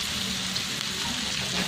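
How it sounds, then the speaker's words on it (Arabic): Two chopped onions frying in a pan with margarine, giving a steady, dense sizzle that crackles continuously and close by, with no voices over it. "وغادي نخليهم يتشحروا"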